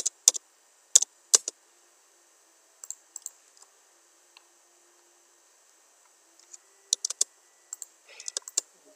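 Keys on a computer keyboard clicked in short bursts of a few rapid taps with gaps between, fairly close and crisp, with no talking.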